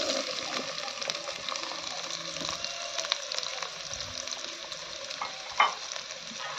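Onions and mustard seeds frying in oil for a bitter gourd curry, a steady moderate sizzle with spatula stirring scrapes and one brief sharper clink near the end, no speech.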